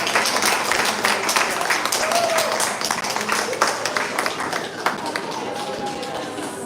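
An audience applauds spelling competition finalists at a Dominica primary school event, a steady dense patter of clapping with voices talking over it.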